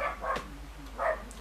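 A dog barks a few short times nearby, two brief bursts with a pause between, in a quiet indoor room.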